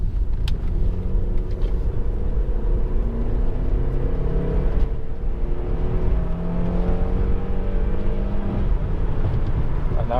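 A Honda Accord 2.4 i-VTEC EX saloon accelerates hard along a rough, bumpy road, its engine note climbing through gears with a steady loud rumble and road noise throughout.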